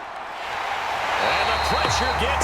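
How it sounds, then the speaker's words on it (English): Stadium crowd in Madden NFL 22 builds into a steady roar of cheering before a big third down in a simulated Rams at Cardinals Monday Night Football game, swelling louder under a commentator's voice. "The crowd getting into it as we come up on a big 3rd down."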